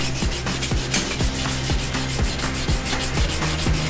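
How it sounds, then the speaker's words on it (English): Steady back-and-forth sanding strokes rasp across a metal knife spine in a quick even rhythm, close and fairly loud, with no talking. "Sanding. Work on the spine right now."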